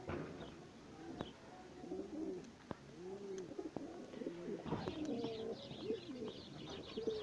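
Ornamental and racing pigeons coo repeatedly in soft rolling phrases at close range, several birds overlapping, with occasional chirps and faint clicks.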